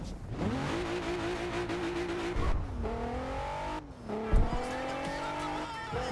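A Maserati Ghibli engine in Forza Horizon 2 revs loudly and continuously, climbing and dropping through the gears in steady rising sweeps. Brief lifts and squeals break up the drone, and no one talks over it.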